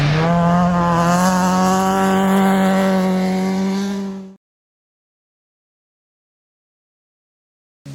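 Honda CRX race car driven hard on a dirt track, its engine roaring loud and close with a steady high-revving drone for about four seconds, then cutting to silence before a brief burst at the end.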